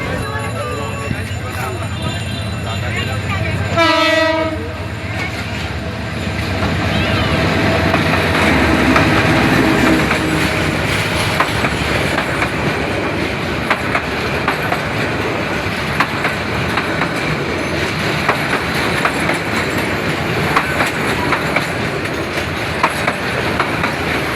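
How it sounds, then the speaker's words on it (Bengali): A train rumbles past close by with rhythmic clickety-clack of wheels, preceded by a loud horn blast, the roar building and staying heavy throughout. "ওই যে দেখা যাইতেছে রেল, রেল আসতেছে।"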